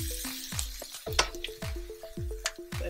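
Garlic sizzles in a pot of hot oil for a Dominican saltfish sancocho while being stirred, with a close hissing fry broken by regular low thumps and scraping strokes, about five in under three seconds, with no talking.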